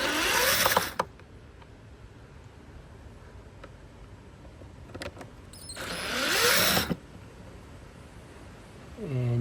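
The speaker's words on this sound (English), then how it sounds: "loosen this Torx screw there and the one on that side" A T30 Torx driver loosens screws on a 2012 Mercedes S350d V6 during an air filter change, giving two short, close bursts of scraping, creaking mechanical noise separated by a quiet stretch.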